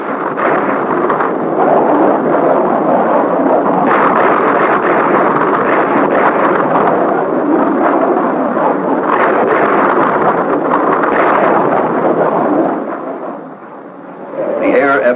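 Bomb payloads exploding during night air strikes at Khe Sanh in the Vietnam War, heard as a continuous loud, low rumbling roar, like distant thunder, that dips near the end and then swells again.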